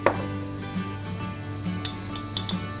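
Chopped onion, garlic and flat-leaf parsley and coriander begin to sizzle in a pot for a spiced lamb meatball soup, a steady low frying hiss with a few light clinks of a utensil against the pot.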